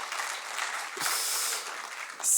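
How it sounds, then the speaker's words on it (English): An audience claps at an interview event, a thin, somewhat distant patter of hands that swells briefly midway and again at the end. "They're clapping for you."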